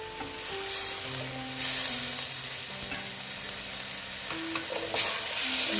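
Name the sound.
grated tomato sizzling and stirred in a pan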